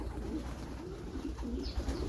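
Pigeons cooing softly in a loft, a low steady murmur of overlapping coos from several birds throughout, fairly close but not loud.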